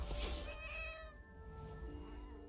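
A cat meows once in the video game What Remains of Edith Finch, a quiet, drawn-out cry that trails off and fades, heard alone without talk.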